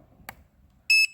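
A Hubsan Zino Mini Pro drone controller emits a single sharp, loud electronic beep lasting about a fifth of a second, preceded and followed by brief clicks in an otherwise quiet room.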